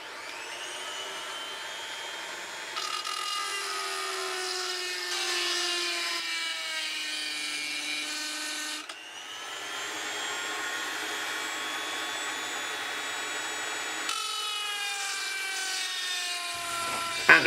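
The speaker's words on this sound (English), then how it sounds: "if you turn the mini lathe on and turn the Dremel on, the mini lathe will spin, the Dremel will spin" A mini lathe and a Dremel spin together while grinding a hole in stone, giving a steady high motor whine that shifts pitch and shape in several stages, heard alone with no talking.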